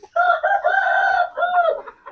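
An Aseel rooster of the Ratu line lets out a single long, loud crow close by, with a brief dip midway before trailing off.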